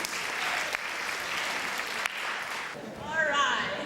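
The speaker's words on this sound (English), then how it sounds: "Let's give her a big, big round of applause." Audience applause for a motivational speaker, a broad, sustained wash of many hands clapping for several seconds, fading as a voice rises near the end.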